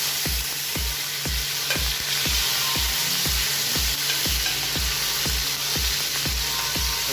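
Oil sizzles steadily in a covered pan as dinengdeng ingredients with gerger leaves fry, a continuous hiss under a regular series of low, evenly spaced taps, close and moderately loud with no talking.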